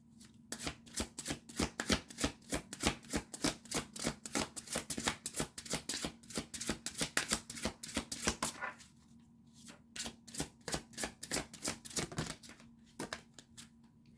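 Tarot cards are shuffled by hand, a rapid run of crisp riffling flicks in bursts, close and clear, pausing briefly before a second shorter bout, with no talking.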